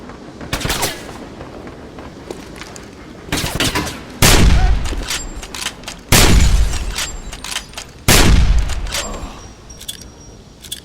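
Gunfire from a Wolfenstein train station battle: scattered lighter shots at first, then several heavy, loud blasts with deep booming tails, spaced a couple of seconds apart, close and dominant.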